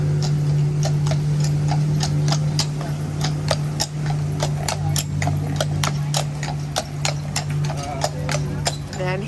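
Horse hooves clip-clop in a steady rhythmic series of sharp clicks on pavement during an evening stroll, moderately close over a constant low hum and background murmur.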